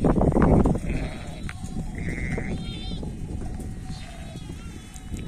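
Sheep and lambs bleat while eating feed in a pen, several overlapping calls near and farther off, with a loud burst of rustling at the start and someone speaking briefly.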